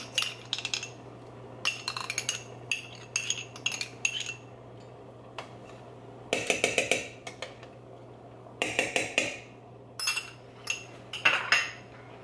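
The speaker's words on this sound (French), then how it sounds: "Et là que je vais mélanger" Metal spoon stirring a meat and potato stew in a pot, giving irregular clinks and scrapes against the pot in short bursts with quiet gaps, close by, over a steady low hum.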